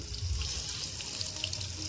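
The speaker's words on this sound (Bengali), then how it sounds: "ভাতে জল লাগবে আর একটু" Water pours into a rice pot in a steady, close running splash that lasts the whole moment, with a faint sizzle of frying underneath and no talking.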